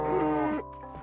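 A cow in the Survival Island video game gives a drawn-out low moo, sustained and tonal for about half a second before trailing off into quieter grunting sounds.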